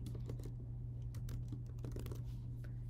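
Rapid, steady clicking of keys on a computer keyboard while a new name is typed in, close and quiet over a constant low hum.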